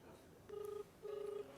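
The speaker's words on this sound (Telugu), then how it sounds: "రింగ్ అవుతుంది." Ringback tone on an outgoing phone call, two steady electronic tone bursts separated by a short pause, clear over faint background hiss.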